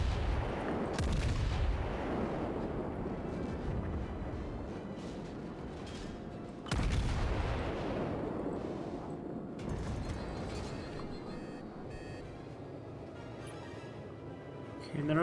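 Heavy warship guns boom in World of Warships, the Wyoming battleship firing two big salvos a few seconds apart, each a loud deep blast with a long rumbling tail, plus a smaller report later.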